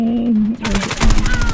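Bursts of rapid automatic gunfire in the mobile shooter Call of Duty Mobile, loud and dense, firing in quick repeated cracks after a brief tonal game sound, with a voice faintly present.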